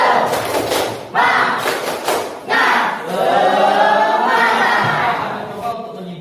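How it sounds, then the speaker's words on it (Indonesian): A classroom of students performs a rhythmic group spirit clap, with bursts of loud, close thumping claps in sets and a chanting shout of voices. "Oke, tepuk semangat."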